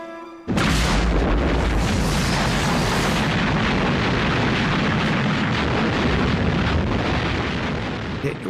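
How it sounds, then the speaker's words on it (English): A massive WWII artillery barrage at El Alamein erupts suddenly into a loud, continuous roar of rumbling explosions that rolls on for several seconds without pause. "It was such an enormous barrage."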